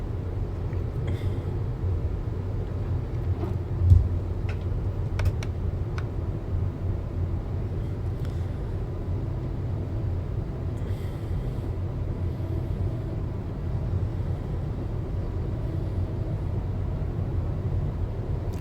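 A Class 350 electric train driven on the West Coast Main Line in Train Sim World 5, a steady low cab rumble and running drone with a few faint clicks and a brief thump, no talk.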